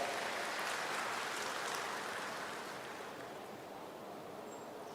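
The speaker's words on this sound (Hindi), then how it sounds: "मैं चाहूंगा तालियों के साथ उनका भी अभिनंदन और स्वागत हम करें।" Broad, washing applause from a large crowd at a public tribal heroes commemoration event welcoming a chief minister, heard faint and distant as a steady hiss that slowly fades.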